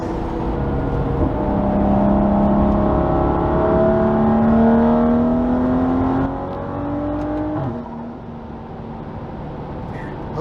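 A car accelerates steadily at highway speed around 55 mph, its engine tone rising in long sweeping pitches over continuous road and wind noise, then easing off into a lower, quieter hum near the end.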